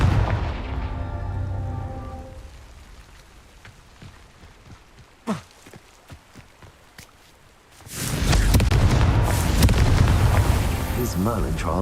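A Confringo fire spell blast in Hogwarts Legacy, on hard mode, erupting into a loud, sustained roaring rumble after several seconds of quieter ambience and scattered crackles.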